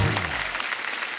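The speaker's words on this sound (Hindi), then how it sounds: "जोरदार तालियां हमारे मेहमानों के लिए।" Studio audience on a Hindi comedy talk show breaks into loud, sustained applause as guests are welcomed and seated, a dense wash of clapping lasting the whole moment.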